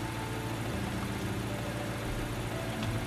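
A motorcycle engine idles in a video game with a continuous, dense rumble and a steady hum. It holds unchanged and fairly loud throughout, with no one speaking.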